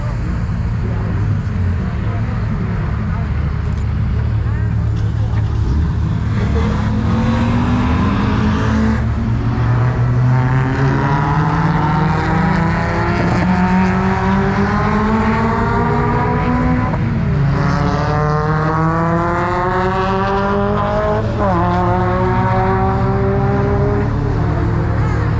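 Race cars lapping the Montlhéry circuit, with a loud, continuous engine roar as several cars rise and fall through gear changes and pass close by, one after another, heard alone throughout.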